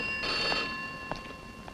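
A telephone rings in a film scene with a bright, sustained electronic tone, heard clearly at moderate loudness with faint background noise and no speech.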